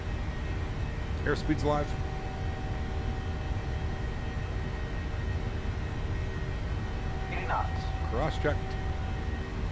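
Airliner engines spool to takeoff thrust in Microsoft Flight Simulator, a PMDG jet departing Edmonton, giving a steady broad roar under cockpit callouts, with short tonal chirps near the start and again late.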